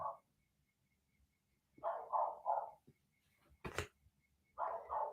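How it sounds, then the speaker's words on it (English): A dog barking outside, several bursts of two or three barks separated by quiet gaps, faint and distant, with a sharp knock or thump between them and no talking. "Doggy outside barking."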